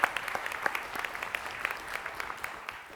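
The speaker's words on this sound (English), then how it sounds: "That deserves a round of applause." A small audience at a radiography program pinning ceremony gives a round of applause for the graduates, soft scattered clapping that holds steady throughout and sounds somewhat distant.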